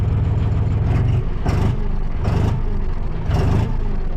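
A steady, heavy diesel engine of a John Deere 5045 D tractor idles close by, low and rumbling, with periodic surges of louder rasping roughly every second.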